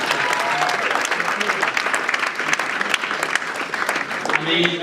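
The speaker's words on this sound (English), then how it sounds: "I need a huge round of applause for John DaCosta." Steady, close applause from a live launch-event crowd fills the whole stretch, dense and even, with faint voices beneath the clapping.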